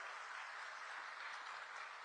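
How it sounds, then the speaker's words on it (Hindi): Faint, distant applause from a crowd at an outdoor political rally on the Kachahari ground in Khunti, a soft continuous patter of clapping with no voices on top. "जोर से ताली बजाओ अर्जुन मुंडा जी के लिए भाई"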